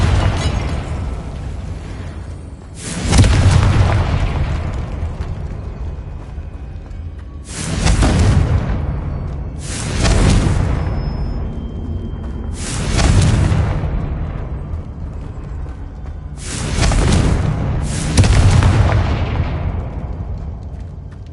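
Confringo fire spells in Hogwarts Legacy explode in a series of about five loud, booming blasts, each bursting suddenly and fading, spaced a few seconds apart over a low continuous game background.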